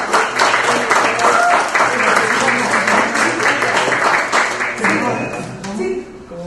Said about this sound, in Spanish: creo que nos merecemos un aplauso